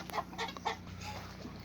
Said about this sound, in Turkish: Bu bizim yedek olan horozumuz.